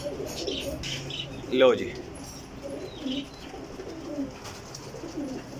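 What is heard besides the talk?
Sialkoti pigeons cooing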